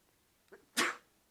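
A single sharp human sneeze, close and loud, preceded by a brief inhale, in a quiet indoor setting.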